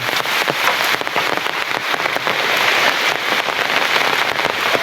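Heavy morning rain pours down outdoors beside a river, a dense, steady roar of drops drumming on surfaces with scattered sharper splashes throughout, loud and close with no voices.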